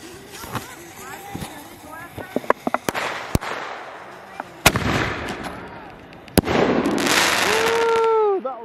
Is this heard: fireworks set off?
yes